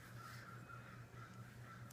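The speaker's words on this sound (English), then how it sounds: "I'm sure you can hear the crows going outside." Crows caw outdoors, faint and at a distance. The calls repeat steadily over a low background hum.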